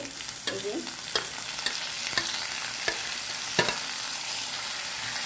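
Onions frying in hot oil for Bengali tempering with red spinach and rohu fish cooking, giving a steady close sizzle broken by several sharp scrapes and knocks of a spatula stirring the pan.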